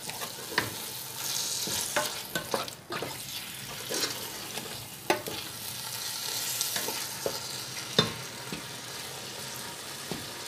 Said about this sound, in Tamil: மசாலான சிக்கனை பிடிக்கிறதுக்கு நல்லா விரட்டி விட்டு கொஞ்சம் வேக விடுவோம்